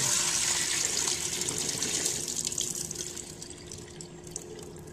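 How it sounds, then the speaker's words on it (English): Rinse water from washing rice for sushi gushes and splashes steadily into a sink, loud at first then gradually tapering off as the pour slows. "Get rid of the excess dirty water."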